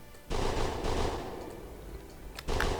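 Gunfire in the video game Planet Explorers, with loud bursts of rapid automatic shots, a long sustained volley followed by a quieter gap and then another sharp burst.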